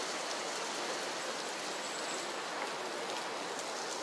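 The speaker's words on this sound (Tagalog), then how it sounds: "Wala akong dalang payong, umuulan." Rain falls steadily at an open market in the Philippines, an even, continuous hiss at moderate distance with no talking.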